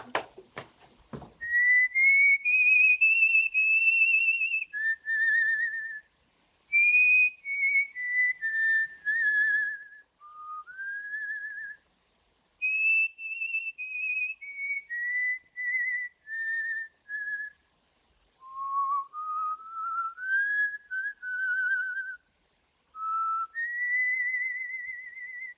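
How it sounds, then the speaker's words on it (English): A man whistles a slow melodic tune alone, in a 1936 film scene at night, the clear tones gliding between phrases with short silent gaps, fairly close and steady in loudness. "I wish he put his whistle out."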